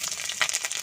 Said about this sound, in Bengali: ফোড়নে দেব তেজপাতা, পাঁচফোড়ন, কাঁচা লঙ্কা চিরা